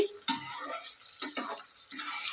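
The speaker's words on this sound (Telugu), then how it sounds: "ఇదిగోనండి ఇట్లా చక్కగా దోరగా ఇలా కలుపుతూ వేయించుకోవాలి." Ginger fries in a pan while being stirred, with a soft sizzle under intermittent scraping and clinking strokes of a utensil, close up and fairly quiet.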